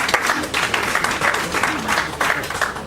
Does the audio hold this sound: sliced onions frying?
no